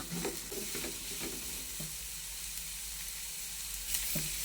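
Vegetables and curry leaves sauté in a hot pan for noodles, with a steady close sizzle and a few scraping stirs of a spoon, no voices.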